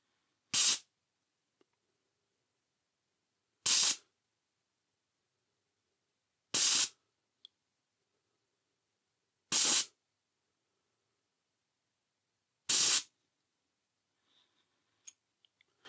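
Five short, loud bursts of compressed air hiss from an AGT Vulcan 3 airgun regulator tester as a grub screw is loosened with a 2.5 mm Allen key, evenly spaced about three seconds apart with silence between.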